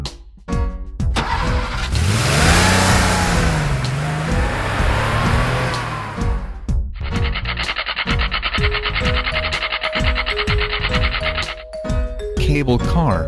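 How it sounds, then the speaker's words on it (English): A red taxi's car engine starts with a rough, rushing roar, then settles into a steady, buzzing rev before cutting off, heard over light background music. "Taxi."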